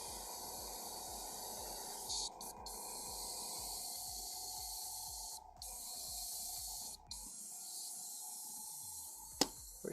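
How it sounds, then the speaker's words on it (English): Hissing spray paint from a can used on a painting hobby project, with long continuous bursts broken by brief pauses and a faint rhythmic thumping underneath. "We spraying paint."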